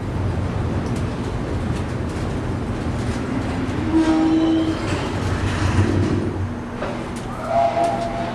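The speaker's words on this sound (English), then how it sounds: "the Disneyland Railroad trains are backed off the main line and into the Roundhouse" Disneyland Railroad train backing slowly off the main line into the roundhouse at night, with steady rumbling wheels, soft clanks and a brief whistle tone, moderately distant.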